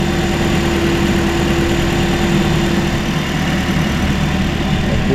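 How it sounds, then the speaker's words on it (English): A 2015 Toyota Corolla VVT-i engine idles steadily, a constant loud hum with a strong low drone and no change in pitch throughout. "So engine is running."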